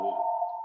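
A single short electronic tone from an office phone ringing, steady and clear, then cutting off abruptly.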